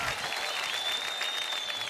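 Loud audience applause at a fairground talent show, dense and continuous clapping filling the whole stretch with a steady crowd roar, no voices standing out.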